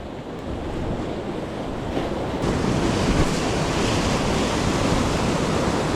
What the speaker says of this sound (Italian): il mare sta crescendo a vista d'occhio e pescare diventa sempre più difficile